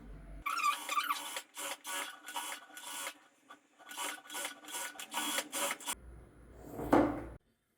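A sewing machine runs in short, close bursts with brief pauses between them, edge stitching a folded hem on a princess cut blouse.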